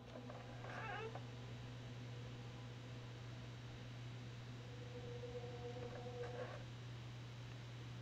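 A cat in the video game Spooky's Jumpscare Mansion gives two drawn-out meows a few seconds apart over a steady low hum and hiss.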